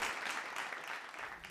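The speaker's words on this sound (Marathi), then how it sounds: "खूप जोरदार टाळ्या एकदा." Steady audience applause at a performance show, moderately faint and even throughout, with brief swells and no talking over it.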